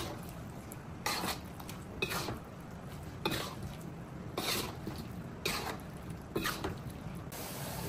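A spoon stirs a beef liver mix in a pot, producing scraping, clinking strokes at a steady rhythm, about one every second, over a low background hiss.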